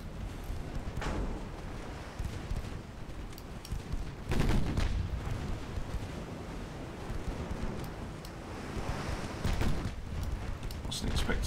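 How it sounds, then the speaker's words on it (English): Warship Vigorous firing her 5-inch guns during a British legendary campaign battle in a naval video game: heavy booming shots at intervals over a steady wash of wind and sea noise. "Chipping away with her 5-inch guns"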